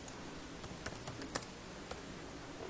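Quiet, sparse keystrokes on a computer keyboard as answer items are typed into a multiple-choice question form, with a few sharper key taps standing out.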